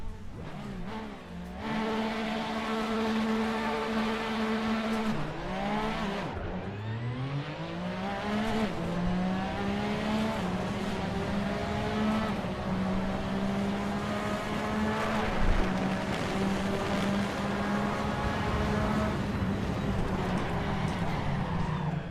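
A Porsche RSR race car at Imola in Assetto Corsa, its engine loud and close, revving up through the gears with repeated rising pitch sweeps and sharp downshifts, with no talking over it.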